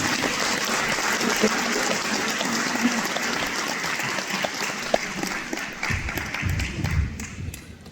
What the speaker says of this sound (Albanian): Dhe për këto do doja që merrja një duartrokitje nga të gjithë.